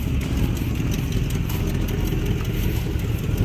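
A parked RV's engine idles at low speed, a steady close rumble with an even throb and no voices.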